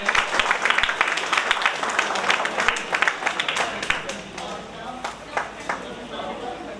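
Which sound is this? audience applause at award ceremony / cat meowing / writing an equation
audience applause at award ceremony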